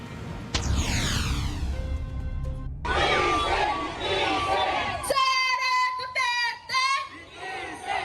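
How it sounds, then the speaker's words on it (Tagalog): A big outdoor protest crowd shouts and chants together in loud, repeated bursts, calling for an impeachment trial, with an amplified voice leading partway through. "Simon, Princess, isa lang ang sigaw ng taong bayan"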